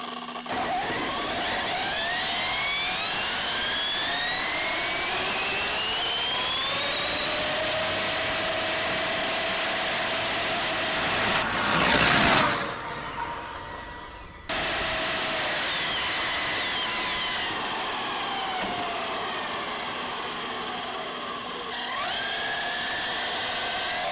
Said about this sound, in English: Straight away I could hear something scraping